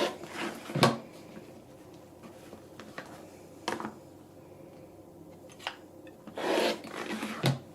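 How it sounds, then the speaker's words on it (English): Scissors trimming fabric seam allowance on a pillow cover, with a few brisk rasping snips and cuts close by, scattered across a quiet background. "I've trimmed off my seam allowance that I needed"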